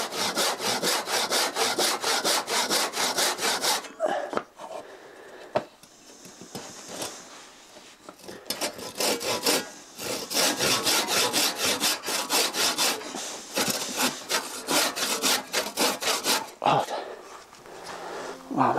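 Hand sawing of wood while roughing out the arms and head of a carved figure, a fast steady back-and-forth rasp close by, running in long bursts broken by short pauses.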